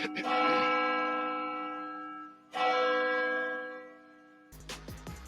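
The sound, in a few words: church bell sound effect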